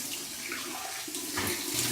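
Cold tap water runs steadily into a sink during a rinse after a shave with Schapenmelk soap, a continuous close splashing stream with no talking.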